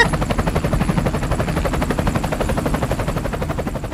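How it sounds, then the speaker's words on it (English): A helicopter arrives in the video game Strange Toilet 2, its rotor beating in a fast, steady chop that stays loud and even throughout with no speech. "here comes the chopper"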